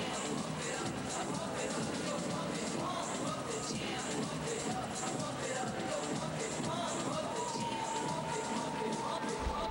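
A large crowd of Romanian supporters at a March 2015 World Cup gymnastics event fills the hall with a steady, dense roar of cheering and shouting voices that never lets up.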